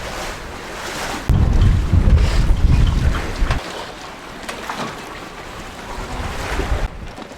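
Choppy, white-capped waves in a sheltered bay near Cape Finisterre, heard as steady wind-driven wash and surf with gusty wind noise on the microphone, surging louder for a couple of seconds before easing to a continuous rough rumble.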